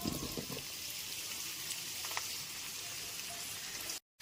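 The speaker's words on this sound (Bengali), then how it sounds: "তেলটা এখানে খুব ভালো মতো গরম হয়ে গেছে। এরপর হাফ করে কেটে রাখা আলুগুলোকে" Halved potatoes drop into hot mustard oil for a festival-style dry potato curry, giving a steady near hiss and crackle of frying with a few louder spits near the start, then a sudden cut to silence at the end.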